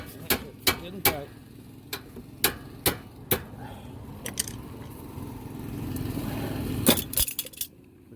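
Light hammer taps on a tie rod end of a 2013 Ford Escape ring out as sharp, separate metallic knocks, about a dozen in an irregular rhythm, close and fairly loud, with a short quick burst near the end.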